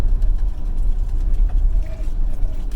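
Mazda B-series pickup truck engine pulling away, a steady low rumble with continuous road and cabin noise, moderately loud and close throughout.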